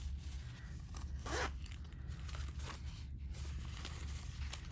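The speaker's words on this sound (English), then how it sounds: "Another zipper pouch. It's a 2-zip pouch." A small two-zip vinyl Sanrio pouch has its zipper pulled once in a quick rasping sweep, followed by faint handling rustles and soft clicks nearby.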